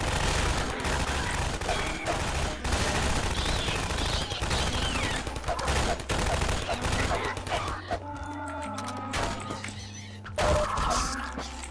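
Two factions trade fire in a video game: bursts of machine-gun and rifle fire crackle in dense, overlapping volleys, loud and sustained, easing into scattered shots and a low hum near the end.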